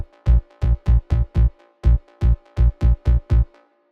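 Two stacked Afro Tech synth basses, a very low one and a subby one, sound together in a syncopated run of short, punchy, dark notes with a faint sustained tonal layer behind them.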